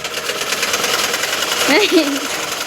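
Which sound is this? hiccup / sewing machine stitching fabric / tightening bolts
sewing machine stitching fabric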